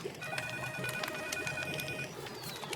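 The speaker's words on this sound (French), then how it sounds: "Ça sonne sans arrêt et personne ne va décrocher." A telephone rings in a steady tone across the whole stretch, its repeated electronic trill sitting under a faint room background with no talk.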